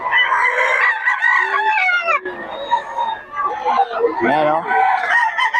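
A gamecock rooster crows loudly and close, with harmonic calls repeating over several seconds while someone talks over them.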